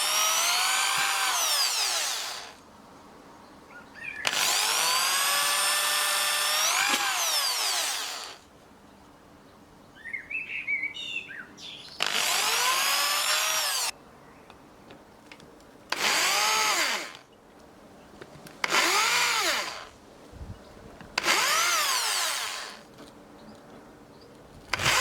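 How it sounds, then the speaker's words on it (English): A power drill bores and countersinks holes in wood in seven loud separate bursts, each whining up in pitch under load, with quiet gaps and a few small clicks and scrapes in between. "drill 4 holes and countersink them with a countersink bit."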